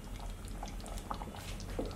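Chicken chop suey sauce for American chop suey bubbles at a gentle, steady boil in a pan, with soft, quiet popping and simmering throughout and no talk.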